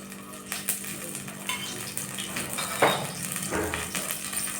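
Ghee frying in a pan for Mumbai street-style pav bhaji masala, a steady soft sizzle with stirring and occasional scrapes and clinks of a spoon against the pan, close up and without voices.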